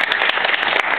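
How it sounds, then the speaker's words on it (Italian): Audience applause greeting a sailing crew member at a presentation, a dense, steady wash of clapping filling the whole short moment with no voices over it. "Abbiamo Mauro Perachini, merita sicuramente un applauso, grazie."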